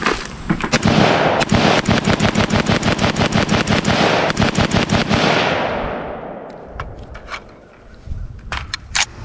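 Swiss SIG SG-553 rifle firing a full magazine in rapid semi-automatic bursts, loud sharp cracks in quick succession for several seconds, then a pause and a few scattered later shots and clanks.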